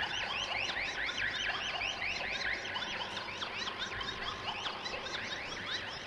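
A dense modular synthesizer tone warbles with rapid, repeating chirping sweeps from LFO modulation, a steady cyclic modulation running continuously without any voice.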